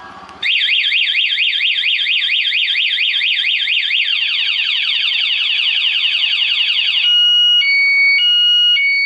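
A Honda Zoomer X scooter's anti-theft alarm whoops loudly in rapid rising-falling sweeps, shifts into a faster warble, then alternates steady two-tone beeps, continuous and close.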